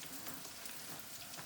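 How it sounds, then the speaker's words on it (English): Broccoli and mushrooms sizzle in a hot stir-fry pan, a faint, even crackling hiss with small pops that continues steadily through the short moment without talking. "Look at those sizzle in there."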